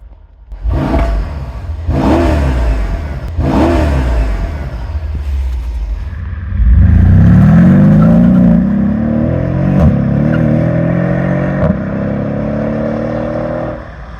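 A Mercedes SL63 AMG engine is revved close by in three sharp blips, then rises into a sustained roaring rev that climbs and holds before tapering off, with some clattering in between.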